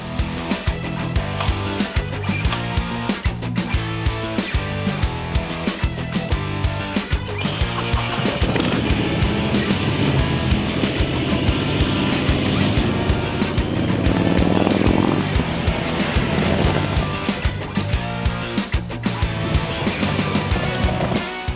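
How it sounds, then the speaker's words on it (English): Custom-built motorcycle on a test ride, engine revving and pulling through the gears shifted by an electric shifter, loud and close with rising and falling pitch as it accelerates. "Riding sweet, shifting nicely through all the gears."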